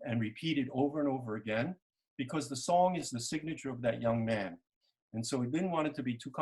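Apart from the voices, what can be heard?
None of the usual background noises is heard.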